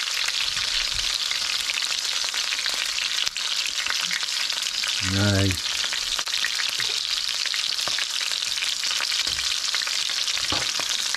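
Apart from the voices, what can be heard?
chicken and bacon sizzling in a pan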